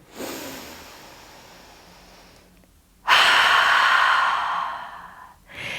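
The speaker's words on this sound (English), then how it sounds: "just take a couple of deep breaths to ground you" Slow, deep breathing during a yoga session, a long soft exhale fading out, a pause, then a loud deep inhale through the nose and the start of another breath, close and alone.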